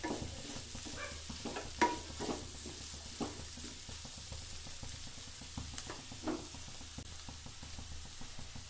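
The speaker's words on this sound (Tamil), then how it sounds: "தேவையான அளவு உப்பு நல்லா மிக்ஸ் பண்ணி விட்டுடலாம்." Chopped bottle gourd stirred with salt in a frying pan, with soft sizzling under repeated scraping strokes and a few sharp clinks of the utensil against the pan, close and fairly quiet.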